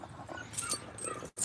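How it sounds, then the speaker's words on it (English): A red nose bulldog lets out soft, high whimpers and short whines in quick bursts, close by, with brief breaks between them. "she's a bulldog"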